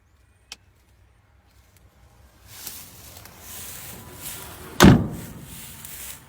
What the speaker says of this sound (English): All this stuff had cool door handles. Pop them up, take a look inside.